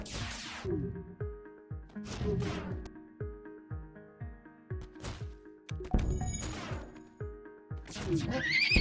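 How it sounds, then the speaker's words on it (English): Repeated horse neighs and whinnies with rhythmic thuds and clatter, loud and close, over a busy soundtrack with some voices in the video game FTL: Multiverse. "Oh, not El Nub Nub the horse."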